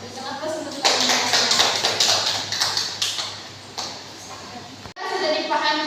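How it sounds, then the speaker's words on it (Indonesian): A classroom group claps together during a microteaching lesson, producing a dense, steady patter of applause that carries for several seconds before cutting off abruptly, with voices mixed in. "Oke, bisa aplaus untuk kalian."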